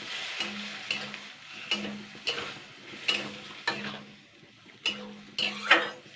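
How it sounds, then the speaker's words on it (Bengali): Fish oil fries with ground spices in a pan, a quiet sizzle under repeated rhythmic scrapes and taps of a spatula against the metal. "এইগুলো দিয়ে আমি কিন্তু ভালো করে আগে মাছের তেলটা ভেজে নেবো"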